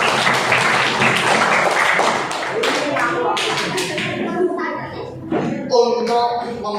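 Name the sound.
class applauding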